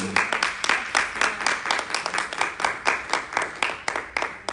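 An audience at a church service applauds steadily, many hands clapping in a full, continuous wash of sound with rhythmic peaks and no speech.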